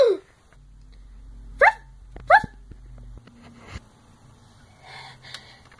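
Puppy noises in a video game: a few short, high yips and snorts, then quieter shuffling and faint sounds.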